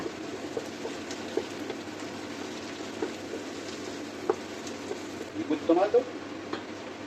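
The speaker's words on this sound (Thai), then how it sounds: "แล้วก็ตามด้วยแครอท ผัดไปจนกว่าแครอทจะสุกประมาณหนึ่งเลยละค่ะ" Carrots being stir-fried in a pan for a French-style red bean soup, a soft, steady sizzle with scattered clicks of a utensil against the pan, and a short burst of voice near the end.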